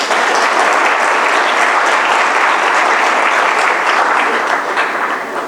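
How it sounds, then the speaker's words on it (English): Loud, dense clapping from a large audience at a CXO event during a motivational speech, sustained evenly for over five seconds and tapering slightly at the end. "Will you just let me know that you are okay by clapping your hands?"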